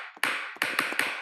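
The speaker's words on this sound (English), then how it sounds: "This thing's called Palmas, and it's like a clap generator. So it makes that hand clap." Four crisp hand claps from the Palmas clap generator plugin in Ableton, sharp and close, arriving in an uneven quick rhythm with nothing else around them.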